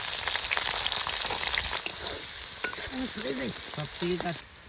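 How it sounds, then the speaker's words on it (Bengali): Chopped garlic and green chilies fry in oil with radhuni and cumin seed tempering, giving a strong, continuous sizzle and crackle that eases slightly as a voice speaks briefly toward the end. "রসুন আর লঙ্কা ভাজা হয়ে গেছে"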